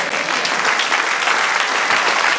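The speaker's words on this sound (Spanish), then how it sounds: "Dale un aplauso a Dios." Church congregation breaks into loud, dense applause, a continuous wash of many clapping hands filling a couple of seconds without pause.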